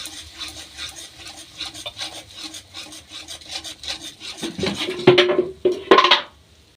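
A spatula rubs and scrapes steadily in a pan as chili powder is stirred and sautéed, a close rhythmic scraping that grows louder with a few sharper knocks near the end.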